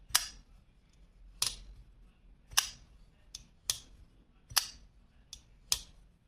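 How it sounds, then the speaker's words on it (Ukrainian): Sharp metallic clicks of a Civivi Photonix folding flipper knife snapping open and shut, about eight crisp snaps spaced roughly a second apart, close and alone. "Послухайте звук відкривання і закривання."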